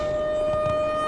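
Alarm siren inside the Black Mesa video game facility, a steady sustained tone with bright harmonics holding evenly for about a second, moderately loud, with faint background rumble.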